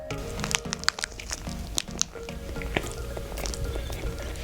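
Someone bites into and chews a barley and edamame rice ball, with soft crunching and squishy chewing bites heard close up in a quiet room under faint background tones.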